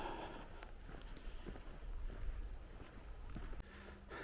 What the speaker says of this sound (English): That wind is blowing pretty good.